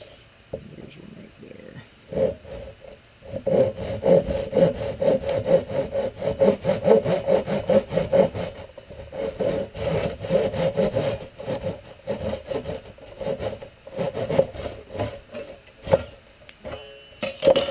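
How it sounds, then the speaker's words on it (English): A Japanese hand saw cuts through wood in a teardrop trailer build, giving a steady rasping back-and-forth stroke close by that carries on for most of the stretch after a quieter start. "So I'll do that with my Japanese saw here."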